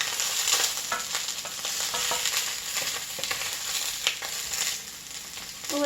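Sausages frying in olive oil in a pan give a steady, close sizzle with crackling spatter and occasional stirring scrapes, continuous throughout.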